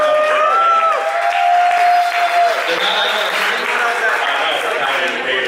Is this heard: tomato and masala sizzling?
no